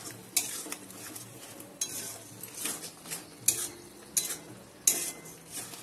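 Whisked sour yogurt goes into a pan over a very low gas flame for a Bengali doi bhetki fish curry, bringing soft stirring and light scraping with a few sharp utensil clinks against the pan, close by and without talk.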